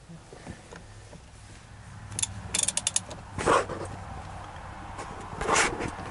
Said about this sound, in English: I'm using a 15/16 socket because that's the closest thing I have to fit that, and an extension.